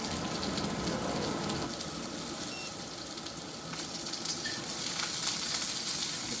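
Shrimp, carrots and other vegetables sizzle loudly in a hot pan for a stir fry, an unbroken hissing crackle with light stirring noises and the whir of a kitchen fan underneath.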